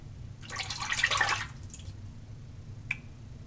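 Running water rinses hands in a brief, close splashing burst of about a second, followed by quiet and a single small drip or tap.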